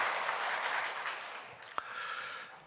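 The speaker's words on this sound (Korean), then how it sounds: "한 번 더 큰 격려의 박수를 보내주세요" A church congregation applauds the worship singers, a soft, diffuse patter of many hands heard at a distance, steady through the short stretch with one sharp knock midway.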